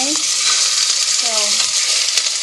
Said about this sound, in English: So you've got my oil heating up here. And I'm just going to sear this meat, okay?